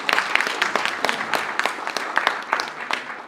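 An audience applauds the panelists at the launch of a Kenyan alumni association's eastern region chapter, with a brisk round of clapping from many hands in a room and a voice briefly heard over it.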